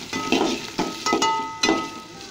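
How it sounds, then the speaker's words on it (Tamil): Onion sautés in a pan after urad dal with a crackling sizzle, punctuated by several sharp stirring scrapes and clinks of a utensil close by. "உளுத்தம்பருப்புக்கு அப்புறம் ஆனியன் சேர்த்துக்கிறேன்."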